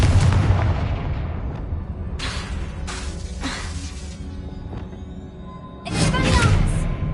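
Confringo fire-blast spells in Hogwarts Legacy go off as loud booming blasts with crackling bursts, several separate hits spread over a few seconds alongside in-game voices.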